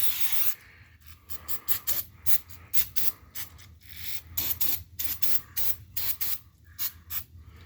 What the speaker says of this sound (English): might as well spray all this garbage